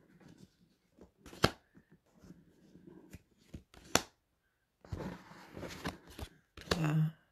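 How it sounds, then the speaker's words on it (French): Tarot cards slide and snap crisply off a deck in a quick run of separate light flicks and rustles, some sharper than others, close by and fairly quiet. "Je vais sortir 5 cartes du paquet."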